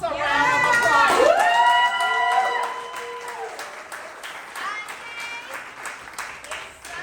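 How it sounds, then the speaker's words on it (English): A crowd at an outdoor weekend action rally applauds and cheers, a dense sustained wash of clapping under voices and shouts that tapers off gradually. "Can you guys give yourselves a round of applause?"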